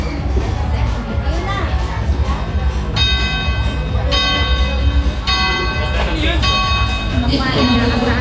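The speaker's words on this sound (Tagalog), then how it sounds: "Kampana ng simbahan." Church bells ring in a repeated pattern over a loud, busy crowd, with people talking and chattering throughout.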